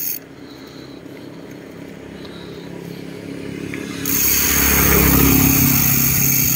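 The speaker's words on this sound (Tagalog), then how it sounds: "Ang bilis ng motor." A passing motorcycle engine on a street in a residential neighbourhood, rising from a low hum into a loud, close roar that swells at around four seconds and stays strong to the end.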